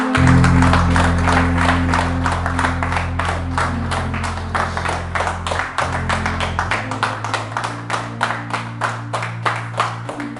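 A church congregation claps for Jesus in a steady rhythmic beat, starting as dense applause over sustained organ-like music, then settling into evenly spaced group claps as the music drops away.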